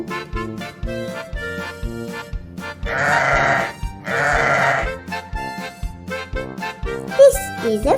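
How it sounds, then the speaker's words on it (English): A sheep bleats twice in quick, wavering calls over a cheerful musical backing, surrounded by a singing voice. "This is a sheep,"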